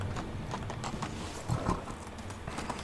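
Horse hooves clip-clop in the video game Medieval Dynasty, a quick, fairly steady patter of light knocks over a constant background ambience, with a slightly louder cluster of steps midway.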